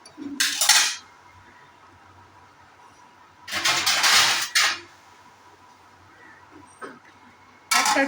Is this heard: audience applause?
no